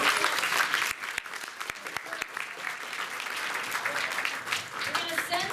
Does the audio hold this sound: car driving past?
no